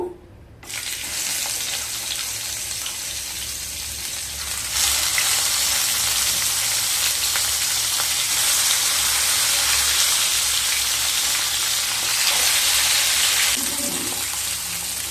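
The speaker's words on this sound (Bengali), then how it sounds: "এবার মাছগুলোকে ভেজে নেব" Katla fish fry in mustard oil in a pan, setting off a loud, hissing sizzle that starts sharply and swells louder partway through, then holds steady and close with no talking.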